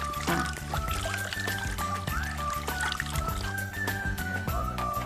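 Naturally dyed fabric is rinsed in water, with continuous pouring and trickling splashes close by and some faint talk in the background.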